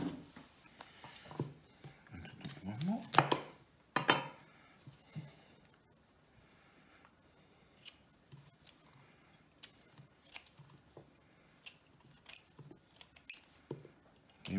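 A kitchen knife slices broccoli on a cutting board while pasta is prepared, giving irregular crisp chopping taps and crunches, some quick clusters, with quiet gaps in between.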